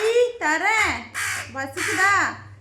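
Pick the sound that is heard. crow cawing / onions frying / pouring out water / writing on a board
crow cawing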